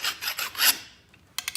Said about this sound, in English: I'm gonna have to get a drill bit here